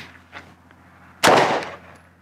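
A single sharp 9mm pistol shot from a SIG P320 fired at a Level III poly body armor plate, loud and close with a short decaying tail after a quiet lead-in.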